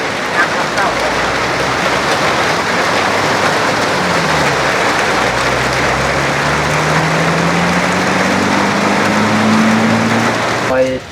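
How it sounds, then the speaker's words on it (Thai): Heavy rain pours down in a loud, steady hiss, with a vehicle engine humming and rising in pitch nearby and a voice faintly audible. "ฝนตกพี่น้องเอ้ย"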